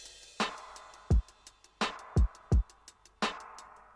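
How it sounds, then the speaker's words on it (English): Drum and bass intro drums for a dubwise track: punchy kicks and sharp snares hit in a broken, syncopated pattern over fast ticking hi-hats, dry and up close. "And if I play the whole intro drums now"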